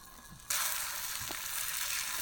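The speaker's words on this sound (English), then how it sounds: "We're just letting the oil heat up and then we're gonna put the trout in about a minute." Trout dropped into hot oil in a cast iron pan over coals: after a short quiet stretch, a loud, steady sizzle suddenly bursts in and keeps crackling without pause, close by.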